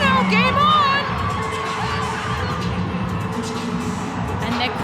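Vancouver Rise supporters and the bench erupt in loud, sustained cheering, high shouts and whoops after an equalising goal at BMO Field in Toronto during the 2025 NSL Final, with voices over the roar.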